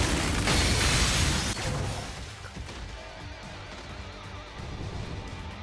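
Soul Bomb skill explosion in Bleach Brave Souls, a loud crashing blast up front that decays into rumbling debris and smaller pops over several seconds.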